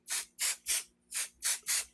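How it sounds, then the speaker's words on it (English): Spray baste adhesive from an aerosol can sprayed onto fabric, six short hissing bursts in a quick, even rhythm, close and fairly quiet with brief silences between. "and with my spray base, I don't need a lot."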